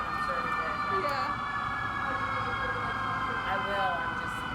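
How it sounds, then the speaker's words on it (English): A passing ambulance siren, steady and moderately loud through the whole stretch, with faint rising and falling wails under background ambience. "There's the ambulance."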